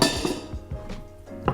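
A single ice cube clinks into an Old Fashioned glass, giving a few bright, close glassy knocks and rattles before settling into quiet.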